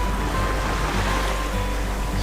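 Atlantic Ocean water rushes and washes steadily around a sailboat under sail with its motor off, a dense continuous hiss of waves, close and loud, with no talking.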